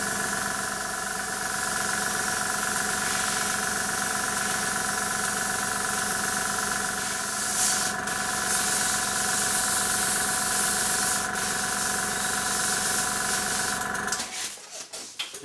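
Airbrush spraying red paint for light shading on a latex item, a constant loud hiss over a steady humming compressor drone that holds almost unchanged before cutting off near the end.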